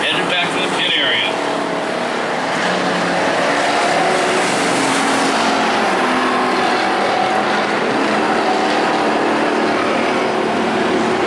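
Factory stock race cars roaring around Perris Auto Speedway, a steady loud wash of engine noise as the pack circles, with an announcer talking over it.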